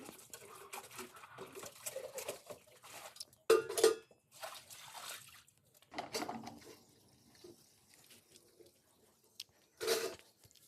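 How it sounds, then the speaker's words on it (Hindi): Tea and milk utensils are scrubbed and rinsed by hand in a household courtyard, with clinking metal, sloshing water and scraping in scattered bursts and two sharper clanks, fairly close but quiet overall. "जो बर्तन है वो धुल लेंगे चाय और दूध के"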